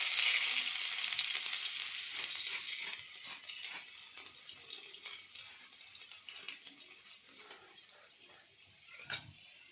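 Crushed garlic dropped into hot oil bursts into a loud hiss that slowly settles into a steadier, quieter frying crackle, with a few light ladle knocks near the end.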